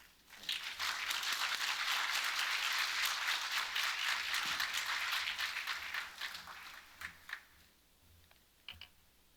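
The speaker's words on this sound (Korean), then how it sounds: "우리 이 목사님 나오실 때 뜨거운 박수로 환영해 주시기 바랍니다." A church congregation gives warm applause welcoming a pastor, a thick burst of clapping that holds steady for about six seconds, then thins to a few scattered claps.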